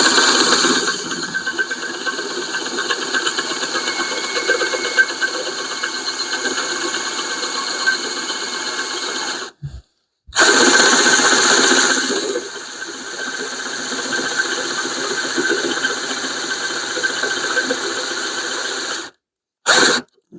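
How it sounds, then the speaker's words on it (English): A cordless drill grinds steadily as it enlarges a hole in a Hemi connecting rod, a loud, continuous mechanical whir that stops briefly twice and then starts again, with no talking. "A lot of drilling happening here."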